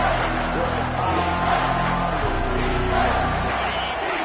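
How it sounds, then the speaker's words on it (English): Steady, dense stadium crowd roar from a Madden football video game, loud and continuous throughout a big third-down moment, with the broad noise of many voices swelling slightly but never dropping out. "this crowd is bringing down the house"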